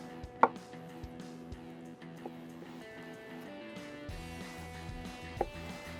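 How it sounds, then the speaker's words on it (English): A knife cubes rested tri-tip for burnt ends on a cutting board, with a few sharp, isolated chops standing out over a quiet, low background hum. "We're gonna cube it up and make these some burn-ins."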